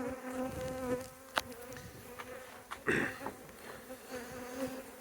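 Large numbers of honey bees fly about in a disorganised swarm during a bee removal, giving a steady, close buzzing drone with a few louder passes as individual bees fly near.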